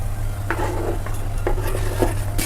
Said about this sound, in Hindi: लहसुन और प्याज दोनों जब तक हल्का सा भून रहे हैं